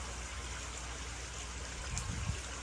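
Water flows through a pipe into a crayfish pond, a steady close hiss and trickle with a brief gurgle near the end.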